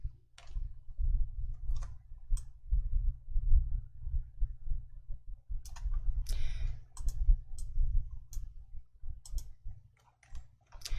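Computer keys and a mouse click sharply in short, scattered bursts during spreadsheet work, with the Ctrl+1 shortcut among them, over a steady low hum.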